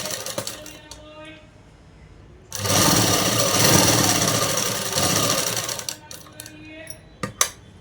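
A sewing machine stitching a dress from cloth, running in a loud, fast whirring burst for about three seconds, followed by short clicks and handling noises, with someone speaking before and after.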